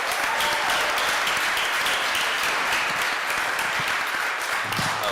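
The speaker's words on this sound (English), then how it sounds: "let's give these guys a big round of applause" Sustained, even applause from the audience at a Rotary Club meeting fills the whole stretch, a dense wash of many hands clapping at steady loudness with no talk over it.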